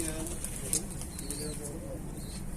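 Pigeons coo softly in a neighbourhood loft area, low murmuring calls under a quiet background hum, with a brief higher chirp partway through.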